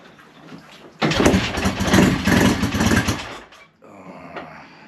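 A BSA A10 Super Rocket motorcycle engine cranks and catches with a loud, rough burst of mechanical noise lasting a few seconds, then drops back to a quieter running or rattling sound.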